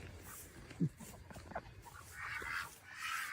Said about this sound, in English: There's some of our rescued ducks. You hear them quacking.